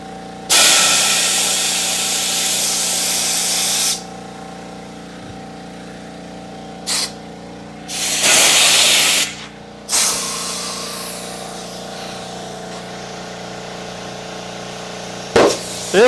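Compressed air blasts into a side-by-side tire on a manual tire changer to seat the bead: one long loud hiss, a short puff, another sustained burst, then further hisses and a final brief spurt, with quiet gaps between.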